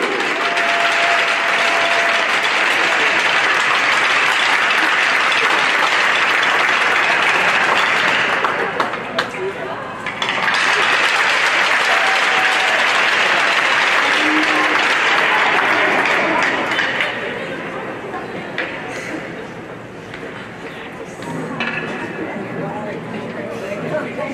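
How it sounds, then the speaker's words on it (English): Sustained applause from an arena crowd at a women's professional hockey game, loud and steady with a brief dip midway, then fading to lighter clapping and crowd murmur toward the end. "one more round of applause"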